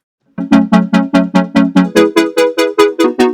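A loud synthesizer tone from the Reason Studios Europa synth throbs in quick, regular vibrato pulses, its pitch stepping up partway through, playing alone.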